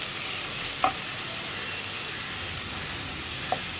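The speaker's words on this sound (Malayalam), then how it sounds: "ഇതിലേക്ക് നമ്മൾ ഗ്രേറ്റ് ചെയ്ത് വെച്ചിരിക്കുന്ന ക്യാരറ്റ് ചേർത്ത് കൊടുക്കാം." Grated carrot sautéing in ghee in a pan for a carrot rava payasam, a steady soft sizzle with two brief stirring scrapes, close and alone.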